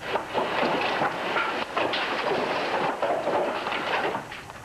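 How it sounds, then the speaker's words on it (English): A dense, continuous rumbling clatter with repeated thuds and crashes of ice chunks up to 4 feet falling from a broadcast tower and smashing nearby, steady and loud throughout. "That is the sound of ice falling from our WPCQ tower."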